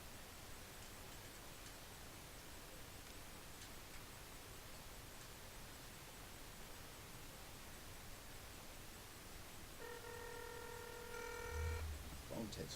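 A phone ringing on an outgoing video call, a faint repeating ring tone late in the clip over a steady background hiss.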